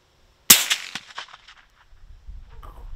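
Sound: suppressed .357 Magnum gunshots in video game

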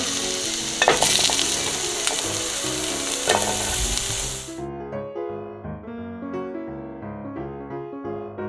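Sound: ginger frying in oil in a pot

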